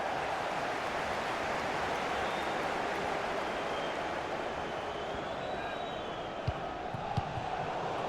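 A crowd at a women's international football friendly between China and Arsenal keeps up a broad, steady roar of noise, with a commentator talking over it.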